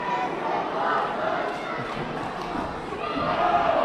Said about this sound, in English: the crowd here at the Bradfield Community Center chanting, "This is awesome,"